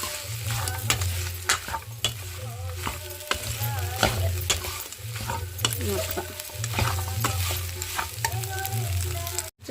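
Mutton curry with ginger, garlic, fresh coconut and green chilies stirred and fried in a pan, with a loud continuous sizzle, repeated scraping strokes of the spoon and rhythmic clanks against the vessel, no voices.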